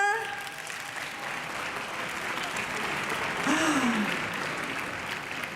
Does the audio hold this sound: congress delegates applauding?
yes